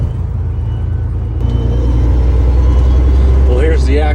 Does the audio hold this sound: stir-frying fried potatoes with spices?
no